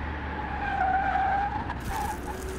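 A virtual car in Car Mechanic Simulator 2021 skids with a sustained tire squeal over a droning engine at speed, loud and continuous throughout, with no voices.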